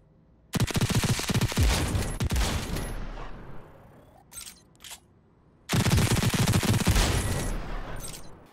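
A modded gun in the VR game Robo Recall fires in two long rapid bursts, dense automatic gunfire that is loud and close, separated by a quieter pause with a couple of short shots.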